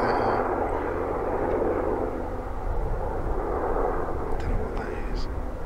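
A Sikorsky S-92 helicopter on a Turkish government test flight passes over Burwell Fen, heard as a continuous, fairly distant engine and rotor drone that holds steady throughout.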